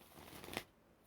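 A tarot deck is shuffled quietly, with a short riffle of cards that peaks in one brief crisp burst as a card is pulled, then fades to near silence.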